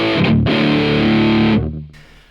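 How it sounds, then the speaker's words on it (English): An electric guitar rings out through an amp with heavy distortion, one loud sustained chord held then cut off, fading into quiet hiss, close and alone. "the distortion is not so much that if I do pull the volume back, I do get some dynamics"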